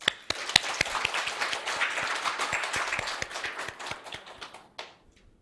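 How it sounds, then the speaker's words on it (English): An audience at a learning event in Seoul applauds as speakers are welcomed, with a burst of scattered claps that holds steady for several seconds and then dies away to silence. "Please welcome them with a big round of applause."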